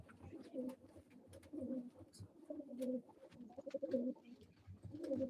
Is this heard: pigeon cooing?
yes